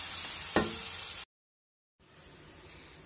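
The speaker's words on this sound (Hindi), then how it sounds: "यहाँ पर मैंने अच्छे से अनियन डाल दिया, और इसे मैं अच्छे से फ्राई कर दूंगी" Onions fry in a pan with a soft continuous sizzle and one sharp click, broken by a brief total silence before a quieter frying hiss resumes, no talking.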